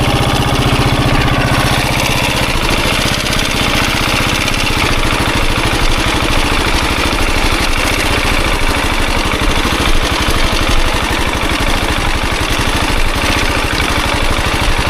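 A KTM 690 motorcycle pulls away slowly in first gear at walking pace, its single engine thumping in a steady low idle-like putter, loud and unbroken under windy outdoor noise.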